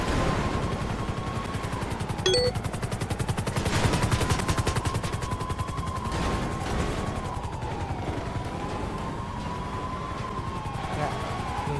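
Police gunfire at a car in a video game: a rapid, sustained rattle of shots runs the whole time over a wailing siren and a revving engine, with talk over the top.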